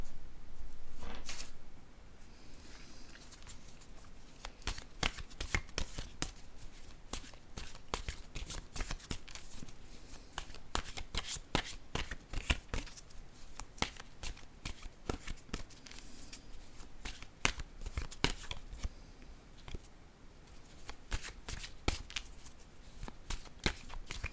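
Message cards being shuffled and drawn by hand, a long run of papery riffles and soft slaps at close range with brief pauses, no speech over it.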